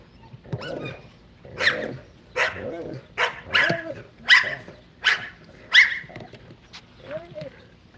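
Summer, a German Shepherd, lets out a string of sharp, close barks and yips, roughly one every half second to second, loud and lively over a faint background murmur.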